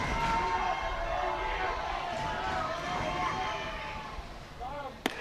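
Loud, constant roar of a baseball stadium crowd at a Hawaii state high school championship between Waiakea and Saint Louis, fans chanting and cheering steadily throughout, with commentators talking over the din.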